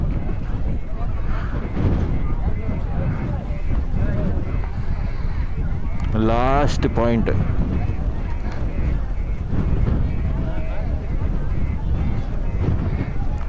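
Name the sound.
heavy wind at Dhanushkodi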